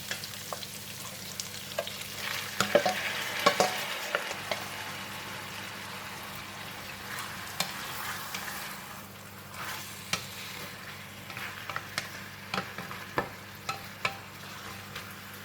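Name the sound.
pork ribs frying with soft onion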